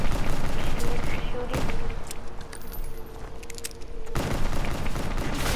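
Call of Duty Black Ops III zombies gameplay: sharp pistol shots crack out in a few separate bursts over a busy layer of game noise, with mechanical clicks and jangles in between and a voice talking at moments.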